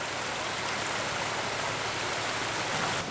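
Lost River flowing beneath a campground entrance bridge, a steady, dense rush of water with an even hiss and no breaks, close and constant.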